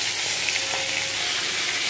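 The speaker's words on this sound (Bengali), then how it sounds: "হলুদ দিয়ে মাছগুলো আমি ভেজে নিলাম।" Rohu fish pieces fry with turmeric in hot oil, giving a loud, steady, dense sizzle that runs unbroken throughout with no voices.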